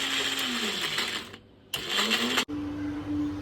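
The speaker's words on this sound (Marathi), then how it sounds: "या भिजवलेल्या मिरच्यात त्या मसाला जरा मग कमी टाकायचा त्या मिक्सरमध्ये वाटतंय" A mixer grinder whirs through soaked chillies and masala, its motor whine running loud, cutting out briefly, restarting, then stopping sharply before a quieter hum resumes.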